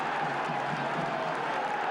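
Home crowd at Hillsborough stadium during Sheffield Wednesday v Charlton Athletic football match, a dense continuous roar of many voices with scattered clapping, steady and loud throughout.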